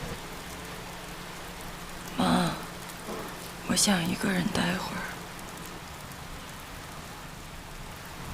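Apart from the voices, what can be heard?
rain falling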